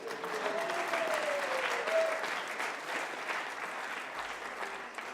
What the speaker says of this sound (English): Huge round of applause for the Sergeant at Arms for putting lights on.